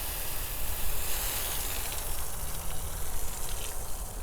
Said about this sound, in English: This is our fire hose nozzle.